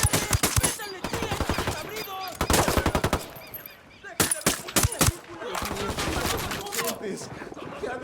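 Rapid machine gun bursts in Ghost Recon Wildlands, loud and close, coming in several clipped volleys with short gaps, then a denser stretch of sustained automatic fire toward the end.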